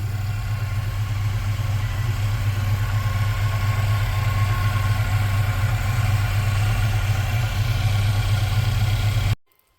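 A 1979 Chevrolet C15 truck engine idles with a steady low rumble held for about nine seconds, then cuts off abruptly.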